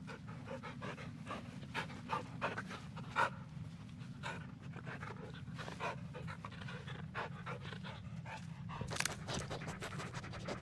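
A dog in the Blair Witch video game pants quickly and rhythmically up close, the breathy bursts running steadily over a low ambient hum with a few faint scratches.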